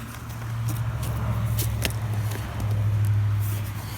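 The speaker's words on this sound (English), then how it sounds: "Sorry about the road noise, we live next to a road." Steady road traffic from a road running right beside a home where birds are being fed: a continuous low rumble of passing vehicles that swells and eases, with a few faint nearby knocks and steps.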